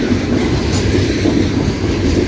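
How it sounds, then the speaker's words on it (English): A long CSX loaded coal train of hopper cars rolls past at Morgan Station Road, a loud continuous rumble with steady clickety-clack of wheels on rail joints close by. "Lots of interesting coal hoppers on this train."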